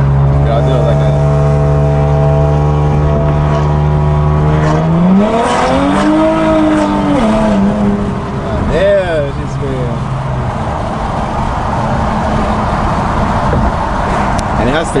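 A bagged stock-turbo Infiniti Q50 on wide tires spins its wheels under hard acceleration, the engine droning then revving up sharply with tire squeal, loud and close, fading into rougher road noise.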